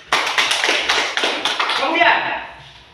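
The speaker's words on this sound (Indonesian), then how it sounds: "Bagus, tepuk tangan dulu." Elementary school children clapping together in a second-grade classroom, a dense burst of many small hands that fades toward the end, with voices mixed in.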